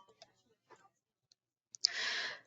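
A computer mouse gives a few faint, sharp clicks, followed by a soft breathy exhale in an otherwise quiet room.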